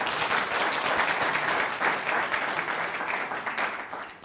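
An audience at an African Renaissance Manifesto event claps in a long, dense round of applause, steady and loud throughout before easing slightly toward the end.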